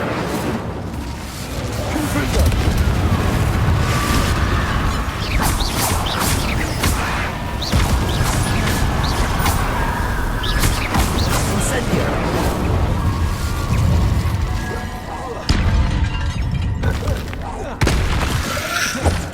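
Fire spell cast repeatedly in Hogwarts Legacy combat, loud bursting booms and crackling blasts recurring amid continuous battle noise and effects throughout.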